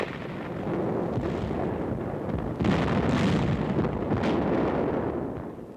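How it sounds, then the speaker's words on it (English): A heavy World War II artillery barrage at the Anzio beachhead, a continuous dense rumble of distant explosions with louder bursts swelling partway through, no voices over it. "and tremendous artillery barrages"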